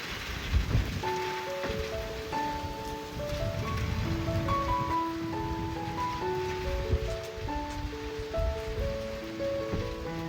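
Heavy summer rain in Switzerland falls as a steady, dense hiss across the whole stretch, with soft background music playing over it.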